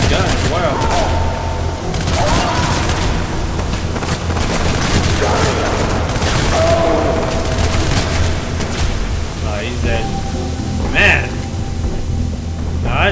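Rapid gunfire and booming blasts from the video game Hatred, with loud volleys of shots packed closely together and a few sharper reports near the end, while a voice talks over the action.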